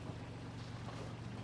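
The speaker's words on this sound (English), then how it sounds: "the engine is just running in neutral" A sailboat's engine idles in neutral with the mainsail up, giving a steady low throbbing drone mixed with wind and water noise, continuous and close throughout.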